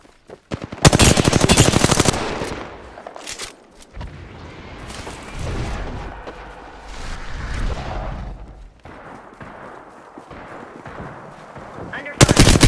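Gunfire in the Apex Legends video game: loud rapid automatic bursts at the start, softer scattered shots and game effects through the middle, and another sharp burst at the end.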